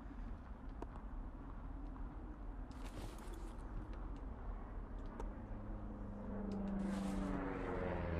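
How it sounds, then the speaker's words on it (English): Airplane flying overhead in the video game Firewatch, a low droning engine hum that holds steady and then swells louder toward the end as the plane passes, with no talk. "You see that plane?"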